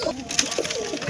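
Pigeons kept for sale, with one red male among them, cooing in low soft warbles that rise and fall several times over a brief stretch of steady background noise, with a sharp higher sound in the middle.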